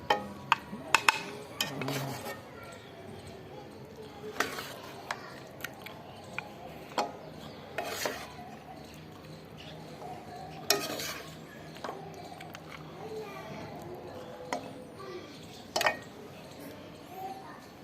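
Mutton Shinwari karahi scooped from the cooking pot onto a plate: scattered scrapes and sharp metallic clinks of a utensil against the pan, irregular and close, over a low background hiss.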